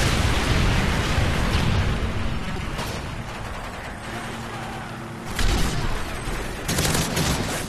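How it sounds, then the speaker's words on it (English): Heavy gunfire and explosive rumble from a Call of Duty: Modern Warfare 3 multiplayer match, with an AK-47 in use and a Predator missile strike, form a dense, continuous roar that swells again near the end. "Predator missile inbound"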